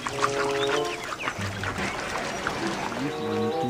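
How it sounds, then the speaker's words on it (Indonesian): Duck-like quacks and squawks sound repeatedly, close and fairly loud, mixed with other bird calls and some background noise. "di sini kita menemukan bebek."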